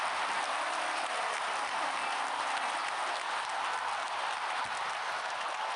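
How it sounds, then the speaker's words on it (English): A crowd's round of applause, a dense, steady wash of clapping that stays loud and even for several seconds with no talk over it. "Round of applause."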